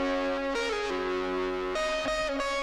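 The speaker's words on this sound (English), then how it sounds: "It's just distortion, some reverb." A distorted electric guitar plays a sustained lead line of a few held, bending notes, washed in reverb, loud and alone.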